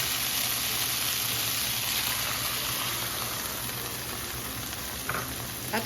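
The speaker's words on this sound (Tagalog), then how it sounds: "Ngayon, pwede na natin i-buhos yung ating tubig." Steady broadband sizzle of chicken frying in a pan as water is poured in for chicken ampalaya with salted black beans, a continuous hiss with faint stirring clatter near the end.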